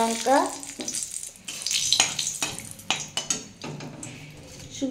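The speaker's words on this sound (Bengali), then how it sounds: "আমার মাছের মাথাটা ভাজা হয়ে গেছে, আমি এবার এটা তুলে নেব" A fish head frying in oil, heard as a bubbling sizzle mixed with clinks and scrapes of utensils against the pan. The sounds come in uneven bursts, close by.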